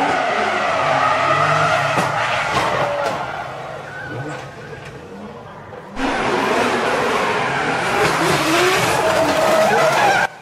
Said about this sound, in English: Let's watch some drift crash videos.